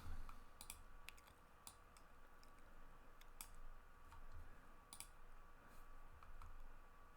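Scattered sharp clicks from a computer mouse in an online DTF gang sheet builder, a few irregular taps spread over a quiet background hum.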